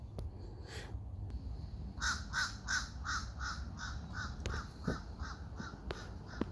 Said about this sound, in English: One of the many crows that's around here.